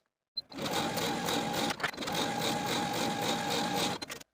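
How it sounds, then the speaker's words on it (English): A sewing machine stitching seams on jersey skirt pieces for a 1970s vintage wrap dress, running steadily for about four seconds with a brief pause midway, close and alone. "Now I'm going to sew both of those back skirts to the front skirt with a 5/8 inch seam allowance"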